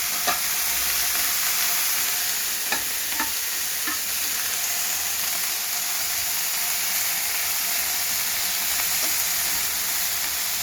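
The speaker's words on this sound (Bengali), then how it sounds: "নাড়াচাড়া করব" Peanut and green chili paste stirred in a frying pan over high heat, a steady soft sizzle with a few sparse spatula taps, no talking.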